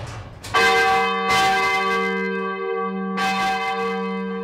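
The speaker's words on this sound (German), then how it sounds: "Er schwärmt in höchsten Tönen von diesem Glockengeläut." Several large church bells ring together in a full peal forming a Salve Regina motif, deep resonant strikes overlapping with long sustained humming tones, loud and close.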